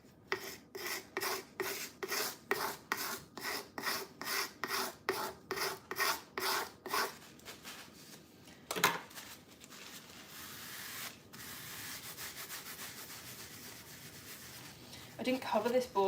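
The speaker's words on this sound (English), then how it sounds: "Scrape the board." Scraping a cake board, with a quick run of rhythmic, raspy scraping strokes close up, then a sharp knock, quieter rustling and a few small clicks at the end.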